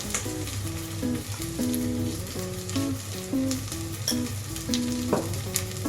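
Masala powder and chopped vegetables for vegetable pulao fry in a pan with a steady, dense sizzle while a utensil stirs and scrapes, close and continuous, under a background of melodic music.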